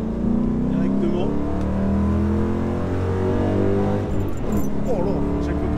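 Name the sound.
Mustang Shelby GT500 V8 car accelerating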